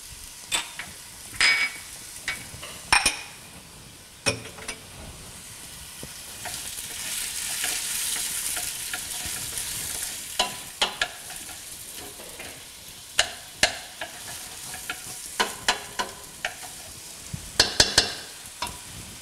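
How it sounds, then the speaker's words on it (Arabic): Onion sautéing in butter in a pan, a steady close sizzle punctuated by sharp spoon taps and scrapes against the pan at irregular intervals. "البصله ديالنا ضروري نشوحها مزيان"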